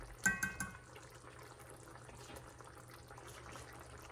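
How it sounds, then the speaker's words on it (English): A spoon is rinsed under a running kitchen tap, with a few soft clinks at the start followed by a faint, steady stream of water. "Let me rinse this spoon and see where I am."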